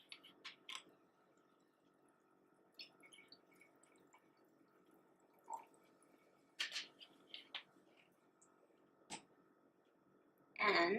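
Seltzer is poured into a glass already holding Pinot Grigio for a festive Thanksgiving cocktail, heard as scattered faint splashes and drips in a quiet room, ending in a louder, fizzy splash.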